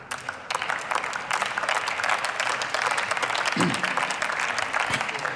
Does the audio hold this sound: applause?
yes